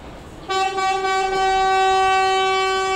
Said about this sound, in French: un tintamarre de klaxon venant du camion de la société de ramassage de poubelles du Cameroun